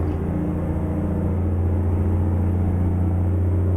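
Steady low engine drone of a simulated DAF 95 truck with a DAF WS ATi engine on the Grossglockner road in Euro Truck Simulator, using International 9900i engine sound, holding an even hum without clear revving.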